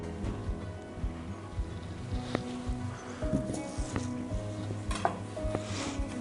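Finely chopped shallot sautéing in hot melted butter in a pan. A soft, steady sizzle plays close up, with light clinks and stirring scrapes of a utensil against the pan.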